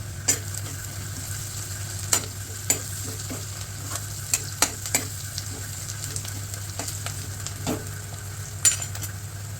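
Spices and asafoetida sautéing in hot oil for mutton masala, a steady sizzle with frequent sharp scrapes and taps of a spoon against the pan, close up and with no voices.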